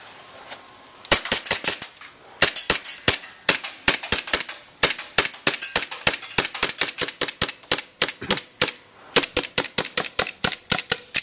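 A metal airsoft gun running low on green gas fires a long series of sharp, dry pops, singly and in quick bursts with short gaps, loud and close with nothing else behind them.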